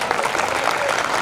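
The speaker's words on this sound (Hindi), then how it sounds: "ताली बजाओ ढंग से बजा सकते हो तो" An audience at an outdoor rally claps in a dense, continuous burst, loud and close, with a bit of crowd murmur mixed in.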